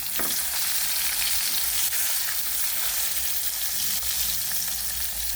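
Sayote (chayote) fries for a Burmese dish sizzle in a pan of hot oil. The frying is loud, dense and steady throughout, with faint stirring and no voices.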